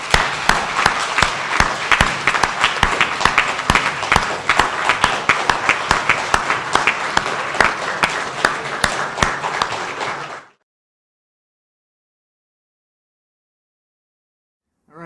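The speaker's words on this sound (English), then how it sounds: "I think we should give everybody a hearty round of applause." Audience applause for candidates at a 2009 at-large candidates Q&A forum, a dense, steady round of clapping lasting about ten seconds before cutting off to silence.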